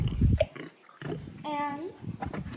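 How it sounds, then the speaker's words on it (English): Farm pigs, including a large sow over 700 pounds, grunt and snort in short bursts, close by, while someone talks over them. "And over here we have some pigs."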